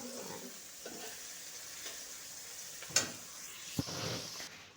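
Pabda fish curry with spices is stirred in a pan over low heat, giving a faint, quiet sizzle broken by a couple of soft scrapes and clinks of the spoon against the pan.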